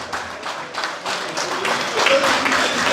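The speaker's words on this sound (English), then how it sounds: "Let's continue to give him a hand of applause." Audience at an APC USA national convention claps, a modest scatter of applause that swells slightly over a few seconds, with voices in the mix.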